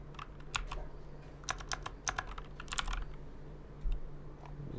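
Quick bursts of keystrokes on a computer keyboard during a Tailwind CSS coding session: close, crisp clicks in uneven clusters separated by short pauses, against a faint steady hum, with no voices.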